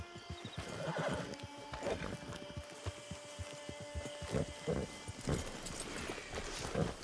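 A horse in the video game Red Dead Redemption 2 whinnies and snorts among steady clip-clopping hooves, the calls repeating close and clear with little else around.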